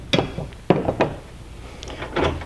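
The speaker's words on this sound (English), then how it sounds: "go ahead and release and open the door" A DragonFire HiBoy door on a two-seat Can-Am UTV is released and swung open, giving a few close, sharp latch clunks and knocks followed by a softer rattling thud.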